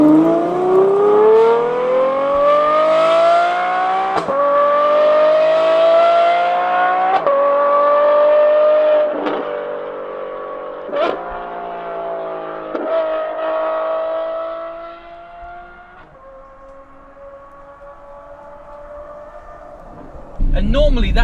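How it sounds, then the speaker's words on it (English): A Novitec N Largo tuned Ferrari F12's V12 engine revs repeatedly in loud rising howls, each rev climbing then dropping back, with a short sharp burst at the end; a voice talks over parts of it. "that V12 howl that, you know, people expect from a V12 engine"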